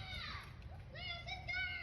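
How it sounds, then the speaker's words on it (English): Children's voices chatter and call out in the background, high and lively, over a low steady rumble. "I have some local kids you hear in the background."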